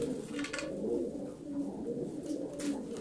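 Tumbler pigeons give low, continuous cooing nearby, overlapping calls in a steady murmur with faint rustling.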